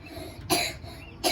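A child coughs twice, two sharp, close bursts less than a second apart against a quiet background.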